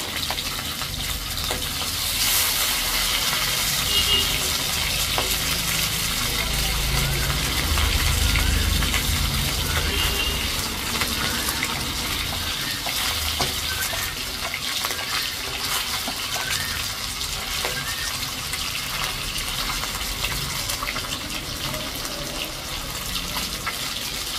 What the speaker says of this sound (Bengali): মাছগুলো কিছু লাল লাল করে ভেজে নেব।